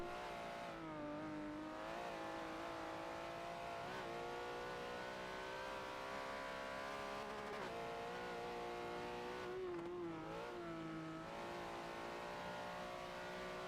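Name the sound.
race cars at Sonoma Raceway in Forza video game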